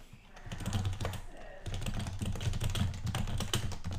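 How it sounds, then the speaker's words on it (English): Rapid, steady typing clatters on a computer keyboard, close and continuous, with a faint voice in the background. "Computer keyboard."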